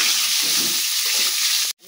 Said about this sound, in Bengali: বেগুনটা একটু হালকা হালকা ভাজা করুন